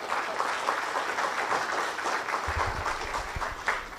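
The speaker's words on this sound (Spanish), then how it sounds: "Démosle la más cordial bienvenida al magíster Jorge Morelli Salgado con un fuerte aplauso" An auditorium audience at a civic lecture claps to welcome a speaker, dense even applause holding steady for several seconds at moderate loudness.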